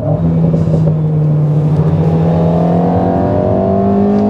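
Alpine A110 S 2022 sports car in track mode, its engine droning steadily and rising in pitch as it pulls, heard loud and close from inside with no talk.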